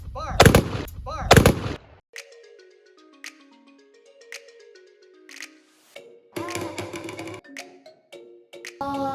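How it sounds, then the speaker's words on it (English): Rifle salute volleys at a military funeral: two loud, sharp gunshot bursts in quick succession open the sequence, followed by a quieter stretch of ringing tones and a later burst of noisy activity. "Rifle Commander, render a 3-volley rifle salute."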